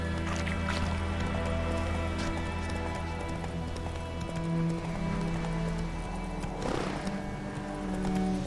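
Roach the horse galloping in The Witcher 3, steady rhythmic hoofbeats clopping close and clear over a droning musical backdrop, with a brief rustling burst near the end.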